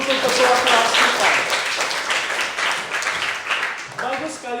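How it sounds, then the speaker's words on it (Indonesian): A classroom of students applauds their class leader, a dense, steady wash of many hands clapping at close range through the whole stretch, with a few voices mixed in near the end. "tepuk tangan dulu untuk ketua kelas kita"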